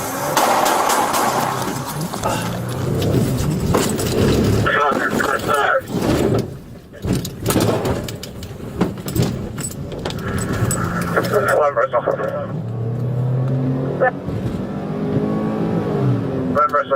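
A stolen police car revs and accelerates away while people shout over it, with a door sound and engine surges rising and falling across a loud, busy stretch.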